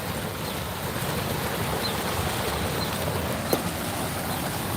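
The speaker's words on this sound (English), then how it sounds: "it's a waterfall right behind us, so it's the only place I can kind of get y'all nice with the angle" A waterfall close by sends up a constant, even, broadband rush at moderate level, broken only by one brief faint knock and no speech.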